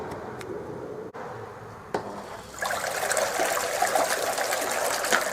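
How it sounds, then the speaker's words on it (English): A 240 volt electric pump runs submerged in a bowl of water in a workshop, giving a steady close gurgling and splashing that turns louder and more turbulent partway through, with a couple of brief knocks. "A 240 volt electric pump in a bowl of water, going like a bastard."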